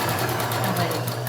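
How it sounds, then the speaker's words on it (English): A sewing machine stitches a dart along a pinned line on a waistline seam, a steady, close, fast mechanical whir that runs unbroken throughout. "I'm sewing along that line as I take the pins out."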